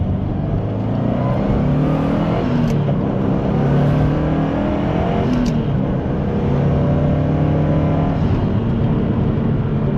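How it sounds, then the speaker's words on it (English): A 2004 Subaru WRX STI with stock exhaust accelerates hard with a steady, loud engine roar and rising drone, heard from inside, continuous for the whole stretch. "I'll give you guys a pull"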